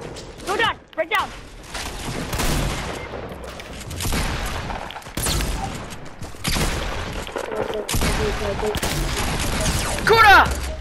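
Fortnite gunfire in bursts of rapid shots between louder explosive cracks, mixed with busy game effects and excited talk from players.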